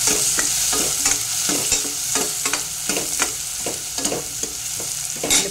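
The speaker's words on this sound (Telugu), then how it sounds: "ఇందులోనే ఉల్లిపాయలు వేసేద్దాం" Onions fry in a pan for a Telugu kakarakaya pulusu, sizzling loudly under steady, rhythmic stirring strokes that scrape and tap the pan about twice a second.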